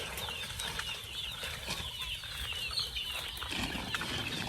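Chickens scramble and flap their wings inside a coop, a busy flurry of wingbeats and scratching with faint clucks, fairly quiet and steady throughout.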